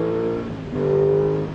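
Aprilia Tuono 660 motorcycle engine with a deep, hollow tone, heard near as a short steady drone that dips briefly and then swells louder, with no talk.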